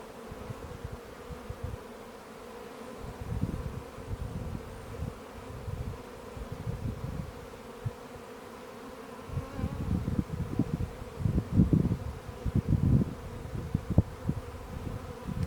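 Honeybees swarm around an open hive where worker and drone brood cells are capped, producing a dense continuous buzz that swells louder in the later seconds, with no talk.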